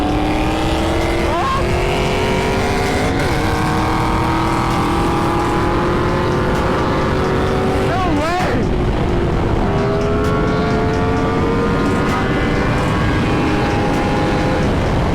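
A petrol motorbike engine roars loudly and steadily, its pitch climbing through long revs with a few sharp throttle blips, while a voice talks over it.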